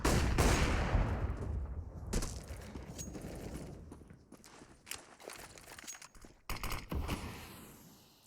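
Rifle gunfire in CS:GO on the Dust2 map during a professional esports match, heard as sharp bursts and scattered single shots mixed with footsteps and game effects at moderate level.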